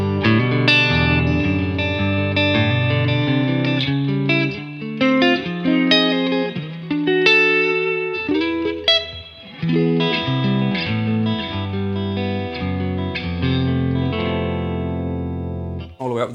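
Distorted electric guitar played through a Marshall amp with the reverb turned all the way up and the controls at 12 o'clock, chords and lines ringing steadily and close throughout at modest home volume.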